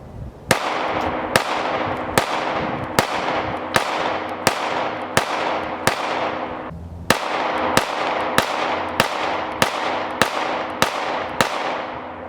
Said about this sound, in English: We're going to try some Hornady Critical Defense and see if we can get some plus P rounds